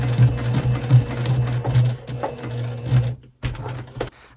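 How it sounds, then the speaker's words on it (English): Sewing machine stitching diagonally across webbing, a close, steady mechanical whir of needle strokes that pauses briefly near the end, then resumes. "With the needle down, I pivot and sew diagonally to the opposite corner,"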